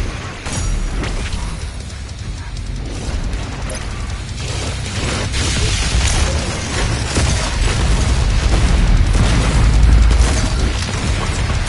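BFG 10,000 firing in Doom Eternal on Mars: a dense, loud mechanical rumble with booming blasts, grinding machinery and bursts that swell steadily and peak near the end.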